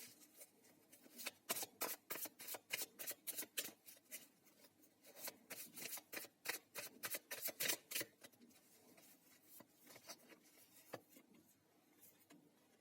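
Tarot cards are shuffled in quick crisp bursts of riffling, repeated several times, quiet and close with no talk over them.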